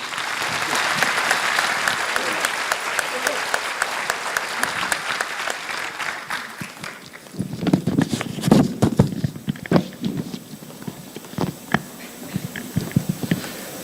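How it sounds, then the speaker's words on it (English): Conference audience applause fills the hall with dense clapping that gradually thins out into scattered individual claps, then sparse handling noises and a few last claps as it dies down. "A big round of applause for sir."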